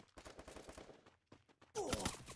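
Bursts of gunfire in the Free Fire battle game, a steady rattle of shots followed by a louder, denser close-range volley near the end.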